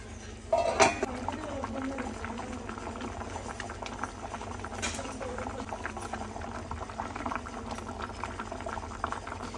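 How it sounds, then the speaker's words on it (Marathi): Repti fish curry in the Koli style simmering over a low flame, a steady gentle bubbling with a soft clatter at the start and light patter throughout. "या रेपटी माशाचं कालवण आपल्याला 10 मिनिटे मंद आचेवर शिजवून घ्यायचं आहे।"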